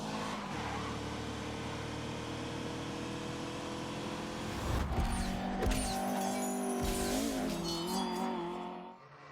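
A twin-cam 1.6-litre car engine revs hard with a buzzing, high-pitched whine, pitch climbing and shifting as it is driven, then easing off near the end; close and alone, with no talk.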